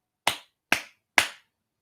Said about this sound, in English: 2-finger clap.